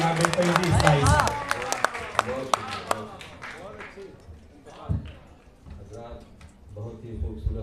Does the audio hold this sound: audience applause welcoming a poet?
yes